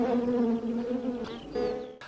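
Honey bees drawn by the scent and taste of food buzz up close in a steady, loud drone that wavers in pitch, with a short higher whine near the end.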